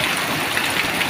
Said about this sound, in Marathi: खूप पाऊस आहे, एवढा पाऊस आहे काय सांगत तुम्हाला